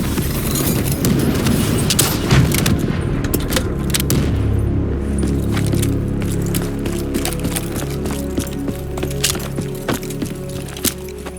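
An RPG explosion in Call of Duty: Black Ops 3 booms loudly amid a dense barrage of gunfire cracks and rumbling combat noise that continues without a break.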